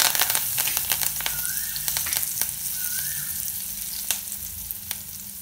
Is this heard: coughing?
no